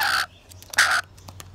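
A crow gives two loud, harsh caws about half a second apart, followed by a few fainter short clicks and rustles against a low background hum.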